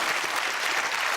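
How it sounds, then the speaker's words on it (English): Audience applause at a televised debate, a steady, dense clapping that continues evenly for the whole moment with no voices over it. "applause."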